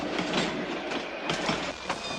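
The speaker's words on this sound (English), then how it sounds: "So far, our train has been traveling west from Antonito." Cumbres and Toltec Scenic Railroad narrow gauge excursion train running west from Antonito, Colorado, in 1988, heard as a steady close rumble of rolling cars with rhythmic clickety-clack wheel beats over the rail joints.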